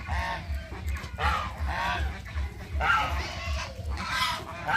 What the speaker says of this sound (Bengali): সোহা রাজহাঁসের লড়াই দেখছে